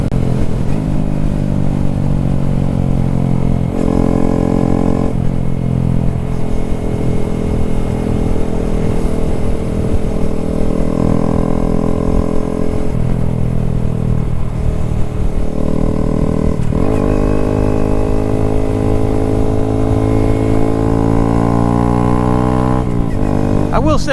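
A Honda Grom motorcycle engine runs steadily while riding, loud and close, its pitch rising and falling as it revs through the gears.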